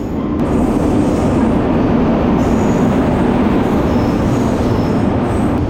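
An Indian passenger train pulls into a station platform in Rajasthan, a loud, continuous rumble of wheels and carriages with faint high squeals, close by and with no talk.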